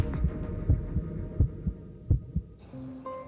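Heartbeat, regular soft low thumps throbbing in steady rhythm with a faint hum, close and alone; a brief high chirp enters near the end.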